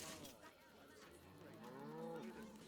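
A cow in the video game Baldur's Gate III lets out a long, close, resonant moo that rises and falls over a few seconds, standing alone without talk.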